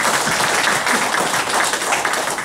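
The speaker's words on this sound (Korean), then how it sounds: "박수 한번 주십시오" Audience applause at a university president's lecture in Changwon, South Korea, a short burst of dense, loud clapping from a seated crowd.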